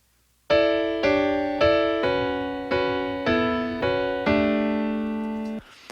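The high part of a grand piano plays alone as an isolated mix track from a live performance: a run of about eight struck chords, each ringing and fading slightly before the next, clear and close.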